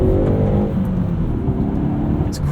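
A 2019 Hyundai Veloster N Performance Pack hot hatch engine revs up on a heel-and-toe downshift, a loud, close, continuous throaty drone that climbs then settles, with no one talking.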